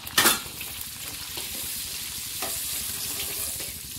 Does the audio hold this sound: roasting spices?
yes